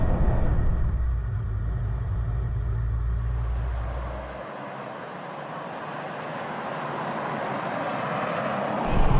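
A Soviet station wagon with a V8 engine drives along, its deep, steady engine rumble loud and close before easing into a quieter, smoother drone after an upshift, then building slightly again.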